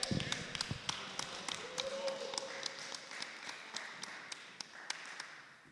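At a Brooklyn community board meeting, a few people clap in a steady, sparse rhythm of sharp single claps, faint and thin in a large room, with voices murmuring underneath.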